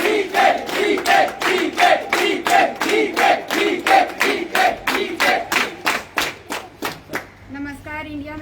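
An audience gives a sustained round of rhythmic clapping for a guest, the claps landing in a steady pulse and gradually thinning out toward the end.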